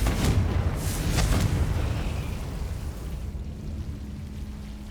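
A Confringo fire spell goes off in the video game Hogwarts Legacy, a close, heavy explosive boom with a few crackling bursts, then a rumbling fade.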